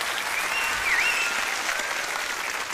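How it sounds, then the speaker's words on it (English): Studio audience claps for Marnie and guests on a local TV couch show, a brief, even burst of applause throughout, with a faint tonal whistle passing over it. "So a round of applause again to Marnie and guests."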